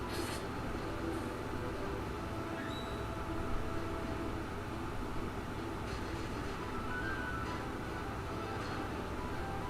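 Grand Train, the ultimate blue magic spell in the SNES game Final Fantasy 6: a steady rumbling, rattling rush like a passing train that fills the whole span at even loudness, with a few faint higher chimes on top.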